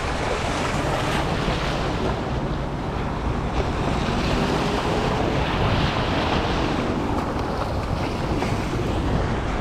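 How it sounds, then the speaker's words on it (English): Boat wake waves washing in at a beach in Florianópolis, Brazil, a continuous loud rush of surf mixed with heavy wind buffeting the microphone, no talk. "Look at the wake coming in."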